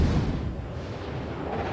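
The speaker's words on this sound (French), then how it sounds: "le Courbet, quand même, a gardé un canon, donc il tire effectivement" Cannon fire from the battleship Courbet in the World of Warships naval game, a loud booming blast with a long rumbling decay, heavy and close.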